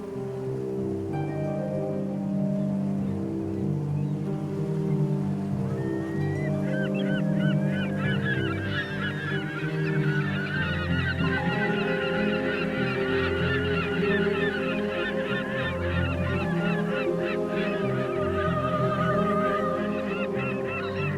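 Flocks of gulls call from the rocks at the entrance to Delaroff Harbour on Unga Island, a dense, loud chorus of honking cries that builds after a few seconds and continues without pause.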